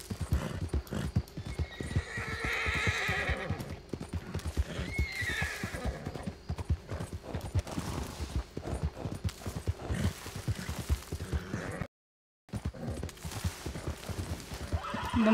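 A horse galloping with rapid rhythmic hoofbeats close by, broken by a couple of loud whinnies, the pounding continuing after a brief silent gap.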